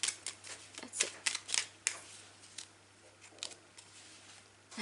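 A deck of tarot cards is shuffled by hand, giving a series of crisp riffling and slapping bursts close up, loud at first and then softer and more scattered.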